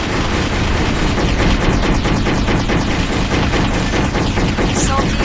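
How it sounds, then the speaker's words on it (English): Rapid machine gun and energy laser cannon fire from enemy units in the mech combat game Armored Core 4, a loud, dense barrage of overlapping shots running steadily throughout with no pauses. "all those little energy laser cannons and machine guns and everything will start shooting at you"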